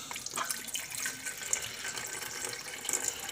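Water running into the reservoir of a hotel-room coffee maker, a soft steady trickle and splash, close but quiet, with no speech over it.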